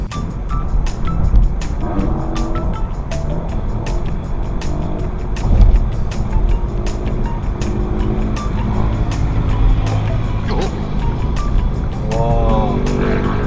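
Heavy steady road and engine rumble fills a car's cabin on a dashcam recording while a motorcycle revs close behind with a rising whine near the end; a voice speaks briefly.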